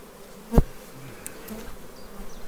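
Honey bees buzzing around a hive in spring, a steady soft hum of many bees with a single louder close bee passing briefly near the start.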